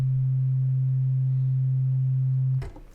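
A loud, steady low-pitched sine tone hums alone without wavering for over two seconds, then cuts off abruptly into faint clicks and background noise.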